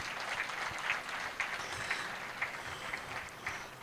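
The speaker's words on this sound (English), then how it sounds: "Please, let's clap for our leaders first." Audience applause at a surveyors' annual general meeting and conference, a steady wash of clapping held at moderate level, with a few sharper individual claps standing out through the crowd.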